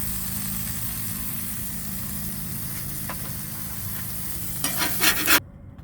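Cheeseburgers sizzling on an RV's gas grill, a steady close frying hiss with a low hum beneath, ending with a few louder scraping clatters before it cuts off.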